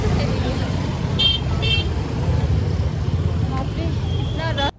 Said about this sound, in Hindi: ये मैं हाईवे में पहुंच चुके हैं। बहुत ज़्यादा भीड़ है यहाँ पे